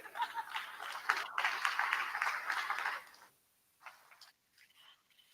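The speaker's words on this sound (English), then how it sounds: "Let's give Scott another round of applause" Audience applause follows a speech at the opening ceremony for VTA's BART Silicon Valley Berryessa Extension: a dense, steady wash of clapping for about three seconds that thins out abruptly, leaving a few faint scattered claps and quiet.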